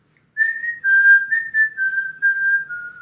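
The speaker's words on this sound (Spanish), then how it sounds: "esa película tiene un silbidito en particular" A recording of the whistled tune from Tarantino's Uma Thurman film: a clear, solo high whistle holding a short sequence of sustained notes that step gently downward, close and clean against silence.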